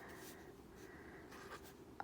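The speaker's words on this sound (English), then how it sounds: "So I am going to write down" A pen writing on paper while setting up a budget page for a paycheck, quiet close scratching strokes in short bursts against a faint room hiss.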